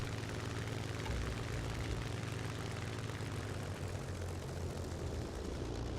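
Steady, loud drone of a BF-109 piston aircraft engine in a flight simulator game, running continuously with a low propeller hum throughout and no talk.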